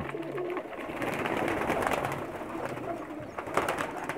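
Male racing pigeons cooing together in a loft, a steady layered chorus of soft throaty coos close by, with no talking.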